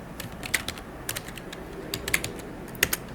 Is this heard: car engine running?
no